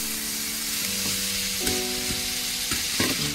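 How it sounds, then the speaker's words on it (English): Pork slices and broccoli sizzle steadily in a hot pan while a utensil scrapes and stirs, with sharp clatters every second or so. "Keep stir frying."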